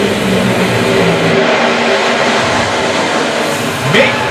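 John Force's Funny Car tears down the drag strip at the 2019 NHRA Northwest Nationals in Seattle, a loud, continuous nitro engine roar that fills the whole stretch and fades slightly toward the end.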